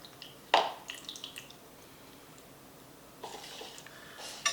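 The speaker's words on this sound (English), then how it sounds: "Going to drain out the water." Water drains from an opened can of albacore tuna into a sink or bowl in a kitchen, heard as a few close, sharp splashes and drips with quiet gaps between them.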